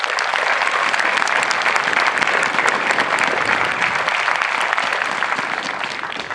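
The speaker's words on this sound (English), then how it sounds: "So I'd like to ask for a well-deserved round of applause for the leadership and the military training instructors" Crowd applause for military training instructors at an Air Force basic training graduation parade, a loud, sustained wash of clapping that tapers off slightly near the end.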